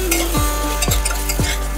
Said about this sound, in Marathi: या मसाल्यामध्ये छान भाज्या परतून घ्यायच्या आहेत आपल्याला।